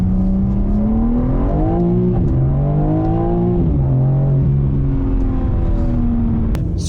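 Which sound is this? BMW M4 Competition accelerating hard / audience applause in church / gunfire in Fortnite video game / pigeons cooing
BMW M4 Competition accelerating hard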